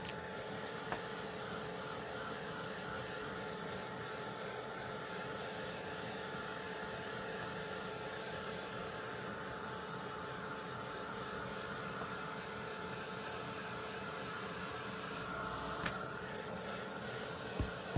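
A heat tool blows a constant, low whooshing hum over a faux leather journal cover, steady and fairly quiet from start to finish, with a faint click near the end.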